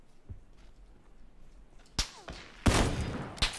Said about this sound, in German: Hinten schießt der jetzt?